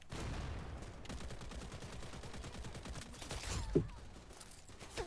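Rapid bursts of automatic gunfire in the shooter Wild Assault during a bot match, sustained and fairly close, with a sharper nearby shot near the end.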